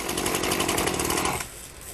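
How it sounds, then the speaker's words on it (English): A chainsaw engine fitted with an attached wheel revs loudly with a harsh, buzzing drone that drops abruptly to a lower, quieter idle near the end. "attached a wheel to the Cruiser's chainsaw engine"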